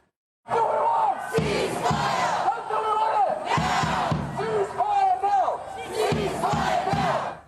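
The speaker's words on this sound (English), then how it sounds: "thousands of people have marched through Brisbane this afternoon, rallying in support of Palestine." A large crowd of thousands marching through Brisbane in support of Palestine chants and shouts loudly in rhythmic bursts, close and continuous, with voices rising and falling together.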